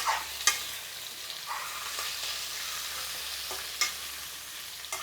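Mango pieces with turmeric frying in a pan on high heat, a steady close sizzle broken by occasional sharp scrapes and stirring strokes, no talking.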